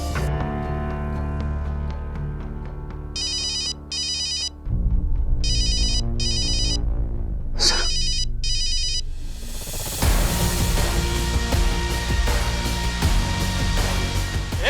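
Mobile phone ringtone ringing in a crime drama scene, bursts of bright electronic tones in short groups, alone over a dramatic music bed without speech.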